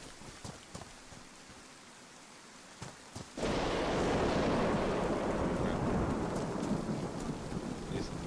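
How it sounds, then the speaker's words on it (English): Rain and a thunderstorm in the survival video game DayZ: quiet ambience with faint ticks gives way to a sudden heavy roar of downpour and rumbling thunder that continues loudly to the end. "This thunderstorm scares me."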